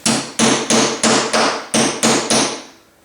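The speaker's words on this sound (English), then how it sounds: "I just keep going with this hammer and this punch." Hammer driving a metal punch through leather laid on a rubber mat: eight sharp, loud, close strikes in an even rhythm about a third of a second apart, each ringing briefly before the next.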